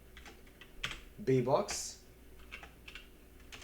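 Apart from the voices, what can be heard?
typing a terminal command on a computer keyboard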